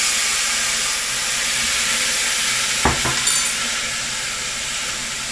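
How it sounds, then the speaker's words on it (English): Loud, continuous sizzling of food frying in a very hot pan deglazed with olive brine, a steady hiss with a brief clatter of stirring partway through and no talking. "The pot is really hot, so I'm just going to keep on frying for another few minutes"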